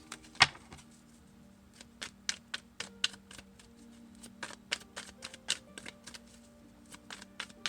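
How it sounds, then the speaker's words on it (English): Quick crisp clicks and riffling bursts, irregular and fairly close, like cards being shuffled and handled, with a steady low hum underneath. "Maybe learning how to shuffle."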